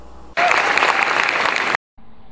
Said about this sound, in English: Thank you for your applause and your entrance.